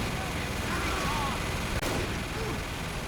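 Gunfire in a competitive shooter video game, a headshot landing as a sharp crack over a dense, steady wash of battle noise and distant shots.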